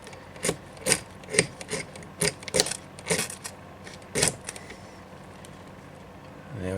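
Ferro rod struck hard against a striker to ignite a bushcraft tinder bundle containing natural tar: a run of sharp, bright scraping rasps in quick bursts, close and fairly loud, then quieter.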